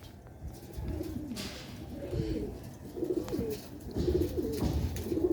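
Pigeons coo in soft, repeated rolling calls, several overlapping at moderate distance against a low background rumble, with no talking.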